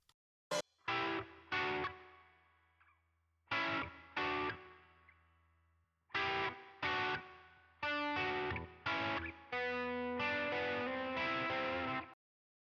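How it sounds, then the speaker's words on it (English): Distorted electric lead guitar plays solo phrases with sustained notes and short pauses, a light reverb tail trailing after each line. "It's labeled lead guitar, and I'll play it in solo."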